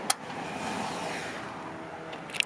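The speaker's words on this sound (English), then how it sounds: "You can probably kind of hear that motor going, but it pulls it the rest of the way shut" Power rear door motor of a 1995 Mazda Bongo Friendee pulling the door shut, a steady low whirring hum lasting about two seconds between sharp clunks at the start and end.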